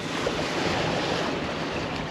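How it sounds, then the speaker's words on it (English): Sea waves roll and wash steadily in Christchurch Bay, heard from a small 21ft sailing yacht as a continuous broad rushing surge mixed with wind noise, loud and close, with no voices. "the bloody rolling waves are back"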